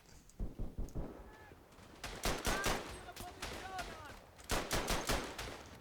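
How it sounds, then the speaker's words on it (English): Enemy gunfire in the World War I shooter Verdun, a chaotic mix of rifle cracks and machine gun bursts coming in several loud volleys, with faint whistling tones and distant battle noise between them. "Where the bloody hell are these enemies' fire coming from?"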